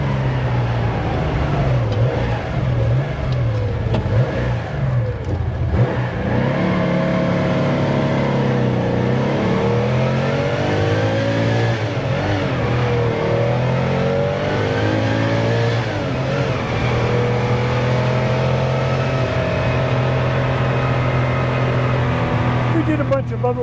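A fully restored 1970 Porsche 914-6 engine pulls and revs up steadily while driving, its tone rising and falling through the gears, loud and close from inside the car.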